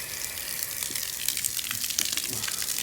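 Steady gushing water pouring out close by as an RV water heater is drained, a continuous splashing rush without pauses.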